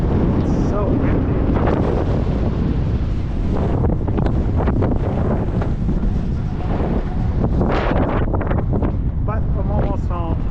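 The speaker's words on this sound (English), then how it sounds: "That wind is something else though today, man." Strong wind roars steadily into the microphone outdoors in Maine, a dense, constant rush throughout, with a voice faintly under it.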